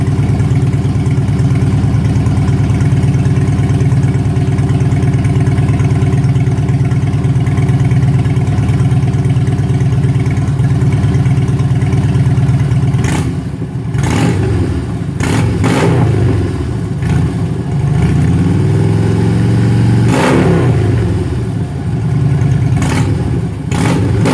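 A Harley-Davidson Street Glide with a 103 engine, its exhaust baffle removed, rumbles loud and close at a deep idle. Several sharp revs follow in the latter half, each throttle blip swelling and dropping back to the lumpy idle.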